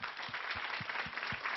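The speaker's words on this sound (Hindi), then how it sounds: "पूरा टीम के लिए एक जरा जोरदार तालियां" An audience applauds the film team at a first-day-first-show screening: a faint, short burst of clapping with a few heavier rhythmic claps.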